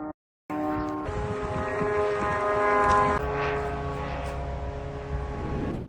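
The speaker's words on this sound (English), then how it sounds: "Drone, that's it." A drone flies overhead, its steady droning propeller hum with buzzing harmonics holding loud and close for several seconds after a brief silent gap, no voices heard.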